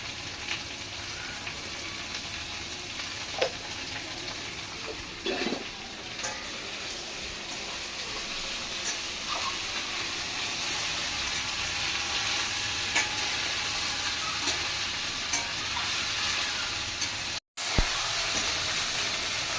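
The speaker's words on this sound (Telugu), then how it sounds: "బెండకాయ ఫ్రై తిప్పుతూనే ఉండాలి మనం వదిలేస్తే అంటిపోతుంది" Okra frying in a pan with a steady soft sizzle, occasional scrapes and clinks as it is stirred, fairly quiet and continuous throughout.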